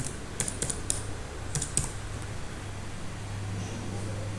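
Keystrokes on a computer keyboard in short irregular bursts, with a steady low hum behind them, fairly quiet and close.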